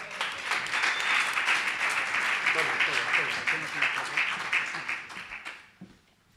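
Audience applause at an award ceremony, a steady dense patter of many hands clapping for about five seconds before fading out, with some voices mixed in.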